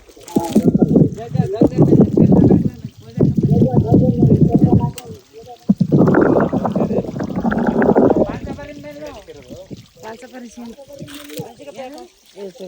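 Water from a newly drilled borewell at Ammanapura gushes out in loud, turbulent rushing surges that rise, drop back and surge again, while voices talk nearby.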